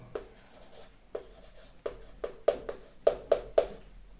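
Chalk strokes on a board during a physics lecture, sparse at first and then closer together, each a short scraping tap, heard alone with no talking.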